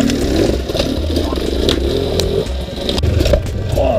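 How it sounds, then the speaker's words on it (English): Enduro motorcycle in second gear with heavy clutch slipping as it climbs slippery rocks, a steady close engine drone with scraping and clattering from the terrain throughout. "Second gear and lots of clutch slipping here on these slippery rocks."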